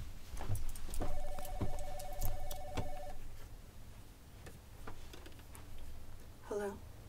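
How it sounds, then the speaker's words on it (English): A telephone bell rings in repeated bursts indoors, fairly close, over soft background rustling, followed by a brief higher electronic tone near the end. "Phone's ringing."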